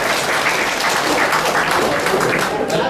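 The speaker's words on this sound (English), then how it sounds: "Give a big clap for that video" Brief burst of steady audience clapping during a corporate meditation session, dense and close, with no voices over it.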